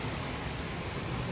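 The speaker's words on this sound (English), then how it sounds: "looks like we're getting a good rain out here." Heavy rain falling outside on a deck, a steady, dense hiss of drops throughout, moderately loud with no voices.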